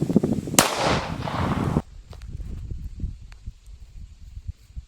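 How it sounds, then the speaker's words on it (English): A single sharp FN57 pistol shot fired into a 4-inch hickory log rings out near the start, loud and close, followed by a burst of rustling and scattered debris before quiet handling noises. "here's a 4 inch with the FN57"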